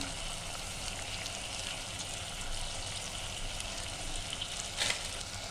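Rice, potato and ground spices including coriander powder, kitchen king masala and biryani masala sauté in a hot pan for masala rice, making a steady close sizzle with faint spatter and no talking.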